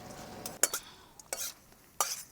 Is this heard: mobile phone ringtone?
no